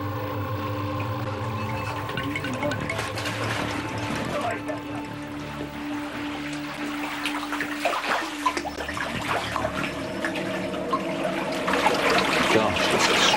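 Water trickling and flowing through a deep, hand-dug underground karez irrigation tunnel in the Gobi, a steady wet wash with splashes and some movement, continuous throughout with a voice speaking over it.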